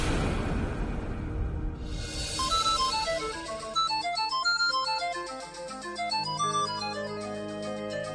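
A mobile phone rings with a bright melodic ringtone, a sequence of clear high electronic notes repeating steadily for several seconds, close and fairly loud.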